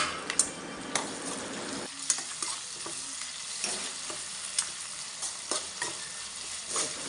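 Onions and tomatoes sautéing in a pan for pepper chicken, giving a soft continuous sizzle broken by repeated scraping and clinking as a spoon stirs against the pan.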